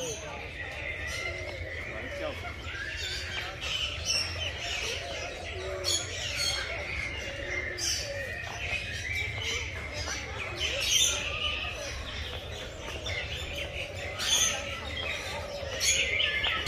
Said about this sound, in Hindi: ये सारे परिंदे हैं वो देखो मोर है और ये कबूतर है